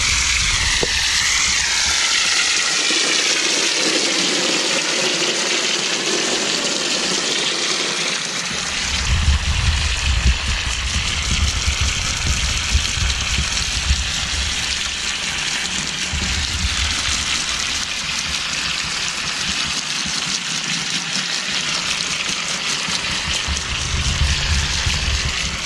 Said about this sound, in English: Wash off the brick here.